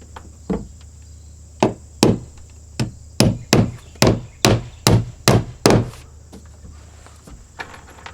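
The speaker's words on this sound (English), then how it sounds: "All you do is just nail it to the wall." A hammer drives nails through a metal bracket into a wall, a series of sharp, loud knocks, a few spaced apart and then a quick run of about eight evenly paced blows before they taper off.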